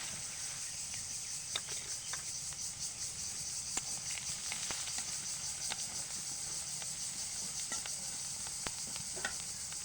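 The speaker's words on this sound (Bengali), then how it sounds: "এখন এটাকে আমি সুন্দর করে ভেজে নেব পেঁয়াজ রসুনটা মোটামুটি ভাজা হয়েছে" Onion and garlic fry in a pan with a steady, bright sizzle, broken by scattered sharp pops and crackles. Nobody speaks.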